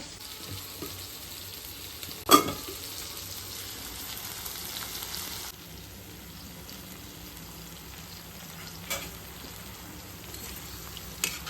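Paneer fries in oil seasoned with salt, turmeric and red chili powder, giving a quiet, steady sizzle with a couple of sharp utensil clinks near the start and end.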